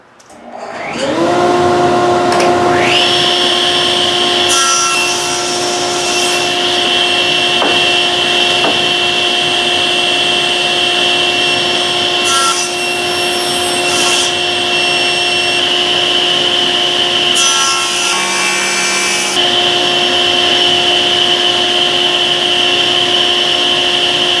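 A power saw spins up with a rising whine and then runs steadily as it cuts a wood board for a dining table, loud and close, with a strong sustained tonal drone and brief bursts of cutting noise, with no talking.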